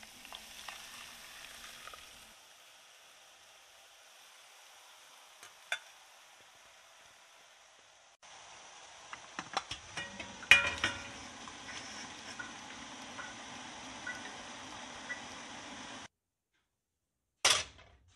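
Garlic and soy sauce frying in a pan for pork and shrimp siomai, a faint steady sizzle with occasional light clicks and taps of a utensil, growing busier midway before stopping abruptly.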